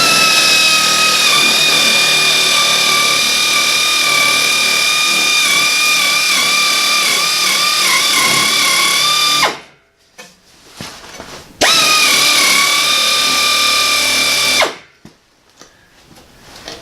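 Pneumatic sheet metal shears cutting a 2-inch strip of sheet metal: a loud, close, continuous air-driven whine for about ten seconds, a brief pause, then a second shorter burst of cutting.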